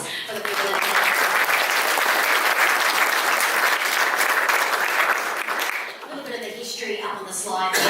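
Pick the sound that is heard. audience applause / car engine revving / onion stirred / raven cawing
audience applause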